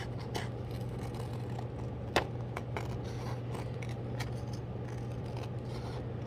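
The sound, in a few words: scissors cutting paper border of gyotaku print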